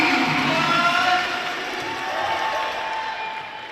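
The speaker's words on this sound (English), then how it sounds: "Victor Apollo getting the crowd going here with a couple chants" Crowd at a women's college basketball game between Georgian and Algonquin, a broad roar of cheering and chanting voices filling the gym, loudest at first and easing slightly while staying steady throughout.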